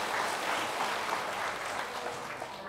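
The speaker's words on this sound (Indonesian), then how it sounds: "Tepuk tangan yang meriah untuk dua pembicara kita" Audience at a health talk show in Purwakarta applauding two speakers, a dense steady wash of clapping from a crowd throughout, moderately loud and unbroken, no voices.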